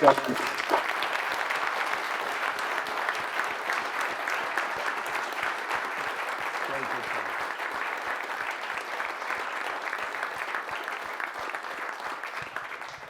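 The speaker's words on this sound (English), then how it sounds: "I think a huge round of applause." Sustained audience applause at a fireside chat on AI and innovation in Brighton, a dense steady wash of clapping from a full room lasting the whole stretch, fairly loud and even without pause.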